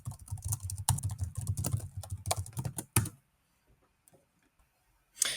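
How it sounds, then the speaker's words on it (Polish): Rapid, steady keystrokes on a computer keyboard as a prompt is typed, about three seconds of dense clicking, then near silence and a final tap. "Także wpisujemy drugi raz."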